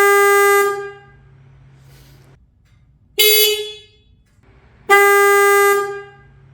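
Denali SoundBomb Mini motorcycle horn sounding three loud, bright blasts, the first held longest and the next two shorter, each cutting off sharply with quiet gaps between.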